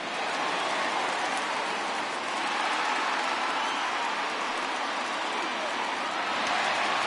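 A steady, dense roar from a stadium crowd at Kauffman Stadium in a baseball video game (Detroit at Kansas City) fills the whole stretch without a break, swelling slightly toward the end.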